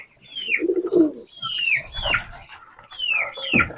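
Close pigeons coo in low throaty bursts alongside sharp higher chirps, several calls in quick succession from a loft of mixed males and hens.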